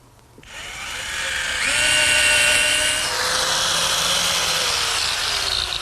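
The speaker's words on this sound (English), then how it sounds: "Next, I attach this 1-inch cleat to the post with some screws." A power drill spins up with a rising whine and runs steadily for several seconds, driving screws through a one-inch cleat into a redwood post for an arbor.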